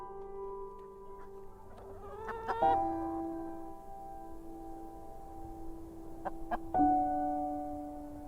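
Chickens rescued from farm neglect cluck in a few short bursts, with a harmonic, rooster-like call rising around the middle and again near the end, fairly close over a steady background hum.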